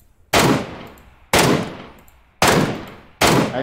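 Gunfire from the PUBG Mobile video game comes as four loud, sharp shots at uneven intervals, each with a quick decaying tail, and there is no talk.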